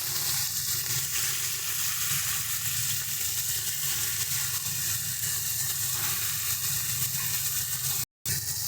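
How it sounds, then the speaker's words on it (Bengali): Small chuno fish fry lightly in hot oil in a kadai, giving a continuous close sizzle with faint stirring scrapes and a momentary cut near the end. "মাছগুলো কিন্তু বেশি ভাজবো না, খুব হালকা করে ভাজবো।"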